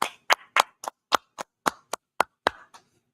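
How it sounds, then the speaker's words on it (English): About a dozen sharp, evenly spaced claps ring out one after another in a quiet room, crisp and close, fading out after a few seconds. "Let's clap it up for Wednesday law class."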